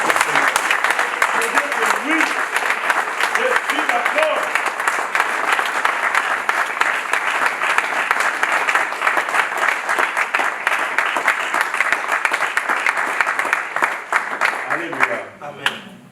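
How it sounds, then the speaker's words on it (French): A church congregation cheers and applauds loudly at a service, sustained dense clapping mixed with shouts and voices throughout, thinning out near the end. "tu vas acclamer très très fort."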